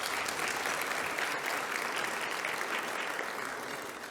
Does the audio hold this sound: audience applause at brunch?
yes